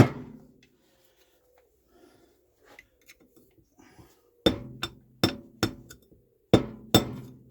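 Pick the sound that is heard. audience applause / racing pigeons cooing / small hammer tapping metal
small hammer tapping metal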